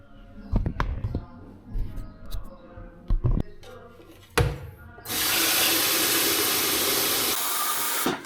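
After some clattering and handling noises, a tap runs in a steady, loud continuous stream as water is drawn for making coffee, stopping abruptly at the end.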